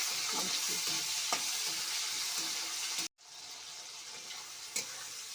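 Chopped bottle gourd and tomatoes sizzle steadily in a pan while a spoon stirs and scrapes through them, with a brief pause midway before the frying and occasional clacks resume.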